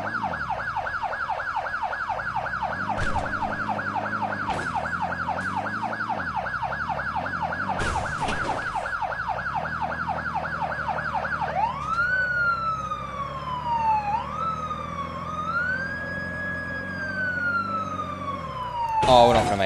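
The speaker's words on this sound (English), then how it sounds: "I'm gonna flip on the other siren, the original one." Police car siren in the video game MadOut2, a fast rapid yelp cycling loudly, then switching to a slower rising and falling wail, with someone talking over it.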